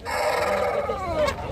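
A rooster crows once at a fighting-cock market, a clear, fairly close call with a rising and falling tone, set against faint market background.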